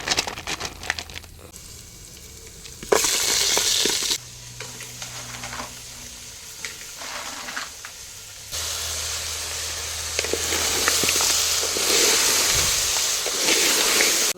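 Crab pieces dropped into hot oil in a pan, giving loud bursts of sizzling and hissing that swell and settle as they are stirred, close and with no talking.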